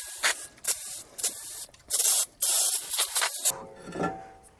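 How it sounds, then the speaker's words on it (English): Brake cleaner sprays in loud, close hissing bursts onto the brake rotors of a Mazda RX8, several short blasts with brief gaps, then a quieter dripping and rubbing tail. "Got to get all that old brake grease off."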